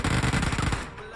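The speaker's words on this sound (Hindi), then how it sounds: "इतना ज़्यादा फायरिंग आ रही है कि मुझे तो मतलब गेम का साउंड कम करना ही पड़ेगा" Heavy automatic gunfire in a shooting video game, a rapid burst of close, loud shots in quick succession that cuts off after about a second and trails into a short fading echo.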